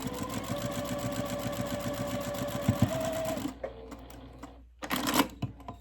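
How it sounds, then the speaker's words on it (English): A sewing machine stitches quilting cotton fabric in a steady rapid rattle for a few seconds, then stops, followed by a few soft clicks and a brief burst of noise. "take it to the sewing machine"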